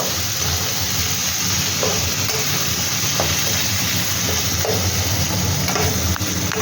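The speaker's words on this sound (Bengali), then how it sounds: "এবার আমি এর মধ্যে পেঁয়াজ কুচিগুলো দিয়ে দেব। পেঁয়াজ কুচি দিয়ে হালকা নাড়াচাড়া করব।" Chopped onions fry and are stirred in a pan for mutton curry, giving a constant loud sizzling hiss broken by occasional soft scrapes of the spoon, heard up close with no voices.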